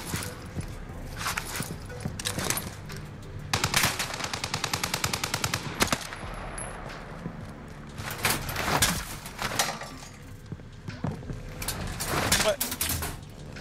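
Bursts of automatic gunfire and single shots ring out in the Call of Duty Warzone battle royale, some loud and near, others more distant, coming in repeated clusters over continuous game ambience.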